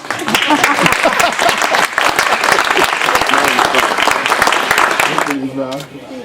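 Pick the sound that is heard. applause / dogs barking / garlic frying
applause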